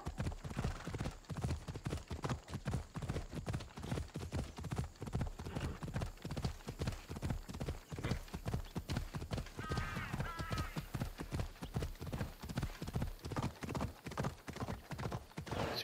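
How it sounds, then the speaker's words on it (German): A horse trots toward a temple in Assassin's Creed Odyssey, with steady rhythmic clip-clop hoofbeats throughout, a brief whinny in the middle and faint background voices. "Wir traben zum Tempel."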